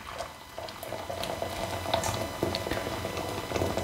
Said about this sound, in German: Da müsst ihr erstmal heißes Wasser reingeben